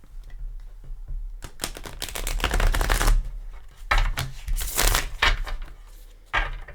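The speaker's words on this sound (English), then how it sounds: "Give it a couple shuffles." Tarot deck from the Light Seers Tarot being shuffled by hand, a run of crisp papery riffles and slaps in close bursts, near and moderately loud, with brief pauses between shuffles and no talking.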